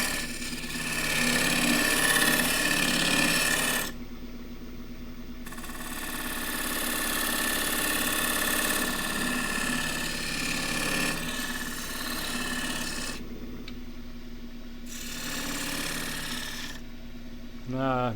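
Bursts of rasping scraping as a negative rake scraper cuts underneath the rim of a wooden tray spinning on a lathe, several strokes separated by short pauses, close and fairly loud.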